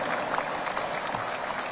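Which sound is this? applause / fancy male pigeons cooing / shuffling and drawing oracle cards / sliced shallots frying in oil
applause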